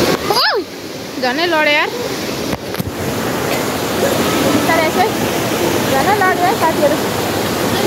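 Namaste waterfall at Bhedetar pours and splashes in a loud, steady rush of falling water close by, while people chatter and exclaim over it.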